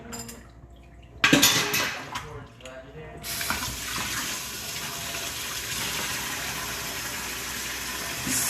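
Running water gushes into a kitchen sink after a few clinks of dishes, then flows steadily and fairly loud as hands are washed.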